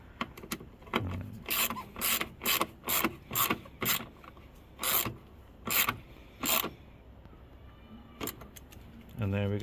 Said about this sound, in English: Get my ratchet, screw that in.